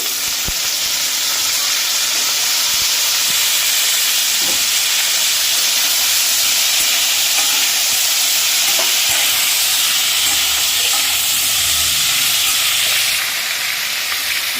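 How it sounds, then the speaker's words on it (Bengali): Potatoes, jackfruit seeds and long beans fry in hot oil in a home kitchen, giving a loud, steady sizzling hiss that fills the whole stretch with no voices over it. "তেলের উপরে আলুগুলো দিয়ে দিয়েছি আলুগুলো ভেজে নিয়ে আসছি"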